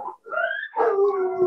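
Coyotes howl outdoors in a wavering chorus of rising and falling wails, fairly clear and close, with short pauses between the drawn-out cries.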